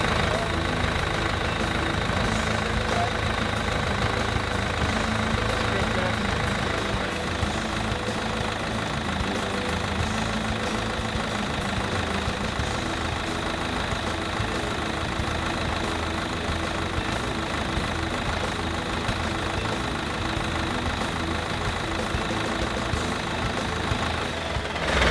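An engine fitted with an injection pump protection system runs at a steady idle, a constant loud mechanical drone with a faint knocking rhythm that continues unbroken throughout.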